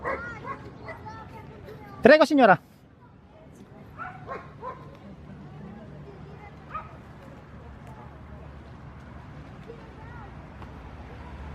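A big dog lets out a short, sharp burst of barks at a lakeside picnic spot, loud and close against quiet outdoor ambience, with a few fainter yips after and people talking nearby.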